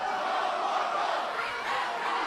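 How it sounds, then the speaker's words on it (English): A WWE NXT wrestling arena crowd roars and chants continuously during a Cesaro match, a dense, steady wall of massed voices filling the whole clip. "Listen to the chanting crowd."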